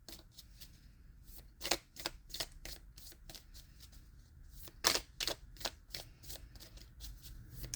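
Oracle cards being shuffled up close in quick, irregular bursts of crisp riffling and slapping, with two louder flurries, quiet between passes and no talking.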